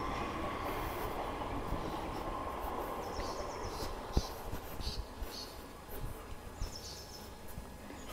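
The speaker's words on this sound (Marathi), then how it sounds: "समोरच आपण बघू शकतो ट्रेन चालली आहे" A train running past near a station beside a bungalow, a steady distant rumble of rolling cars with a brief clank and faint squealing over outdoor ambience, moderately quiet and without talk.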